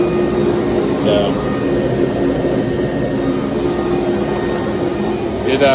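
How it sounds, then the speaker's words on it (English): A steady, loud mechanical drone of a new air compressor with a dryer running continuously, broadband rumble with a low hum throughout, close by. "So that turns the dryer on, that turns the compressor on."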